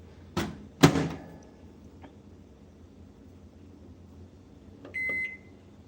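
A household microwave oven in use: two sharp door clunks close together near the start, a softer click, then a short electronic beep after a stretch of quiet low hum, heard up close with no talking.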